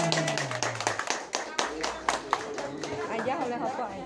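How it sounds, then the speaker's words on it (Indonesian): A group at a gathering claps in quick, uneven bursts while people talk and chatter over it. "Tepuk tangan."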